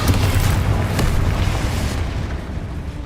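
A loud spell blast from the Bombarda or Confringo charm in Hogwarts Legacy, a deep booming explosion that rumbles at full strength for about two seconds before gradually fading out.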